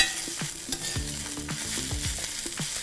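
Sliced onions, about three of them, dry-roasting in a pan with no oil while being stirred: repeated scraping and clattering strokes of a utensil over a soft, steady sizzle, close and fairly loud, with no talking.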